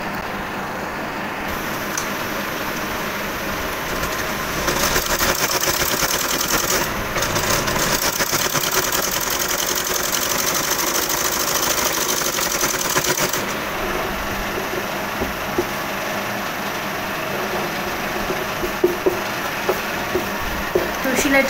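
A sewing machine runs in long continuous bursts while stitching children's pants from scrap cloth, a steady mechanical whir close by with a few small clicks toward the end.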